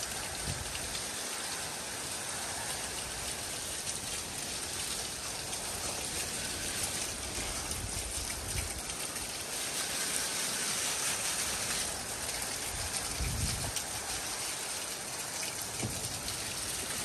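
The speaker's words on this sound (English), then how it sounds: "you just wanna sit here with the mist and just hit all these trees" A mist sprayer blasts a steady, dense hiss of chemical spray onto trees from the ground. It runs continuously and fairly loud, with faint low rumbles underneath and no talk.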